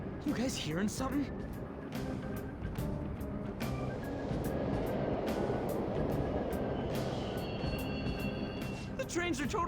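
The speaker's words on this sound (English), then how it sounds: "The trains are totally running! Of course they are. We're in the subway, you know." A subway train runs through a tunnel in the video game Persona 5 Royal, a dense rumbling roar with rhythmic clicks and a few high squeals, continuous and close, with some talk over it.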